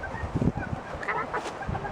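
A fluffy chicken handled on a road trip near Okefenokee Swamp gives a series of short, close clucking and honking calls in irregular bursts, with faint background noise.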